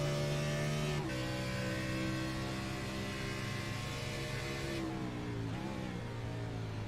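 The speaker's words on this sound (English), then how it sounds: "You can hear him downshift as they come here into the S's" An Xfinity Series race car at Watkins Glen, heard from on board through the S's, roars loudly and steadily, with its engine pitch dropping in sharp steps as the driver downshifts.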